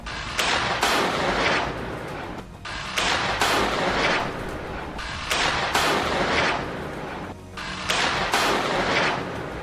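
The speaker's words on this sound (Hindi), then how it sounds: "ये विस्फोटक अपने आप फायर होने लगते हैं" A battery of rockets rigged to an explosive device fires automatically in wartime Gaza, loud roaring launches in four repeated bursts, each a sustained whooshing blast separated by brief lulls.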